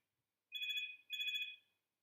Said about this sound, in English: Oh no, the phone's ringing.